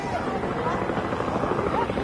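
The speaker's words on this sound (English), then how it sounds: "you can hear one of the choppers flying overhead. That's a security chopper." Security helicopter flying overhead during the funeral train journey for President George H.W. Bush, a continuous dense rotor thrum, loud and steady throughout the brief moment.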